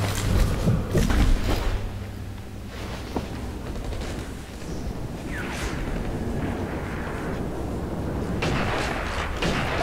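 Gunfire and heavy booming blasts in the video game Sniper Elite V2 roll through a dense, rumbling mix, with sharp reports early on and a sustained loud background of battle noise.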